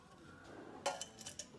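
Ice cubes clink against a glass as one is readied for kombucha: a few quick, bright knocks and rattles, close and fairly quiet, over a faint room background.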